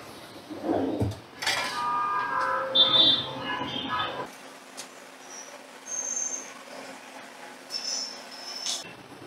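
Fried pineapple pakoras served one at a time onto a plate, with clinks of a utensil against dishware and light clattering, then quieter scraping amid faint room tone.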